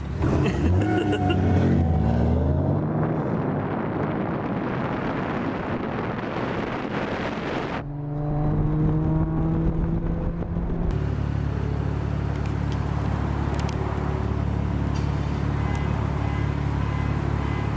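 Car with a 4-cylinder engine on the road, its engine note rising and dropping sharply as gear changes fail to find third, with steady road and wind roar throughout.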